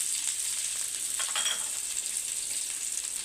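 Cabbage, carrot, capsicum and onion pieces hit hot oil in a pan, giving a steady, close, even sizzle that holds for a few seconds with no talking.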